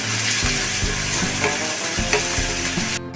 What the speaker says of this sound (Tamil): ஒரு தக்காளியை கட் பண்ணி போட்டுக்கலாம். இதுவும் லேசாக வதங்கினா போதும்.